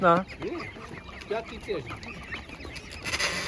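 Ducks quack and honk nearby at a market while people talk over them, with busy background chatter throughout.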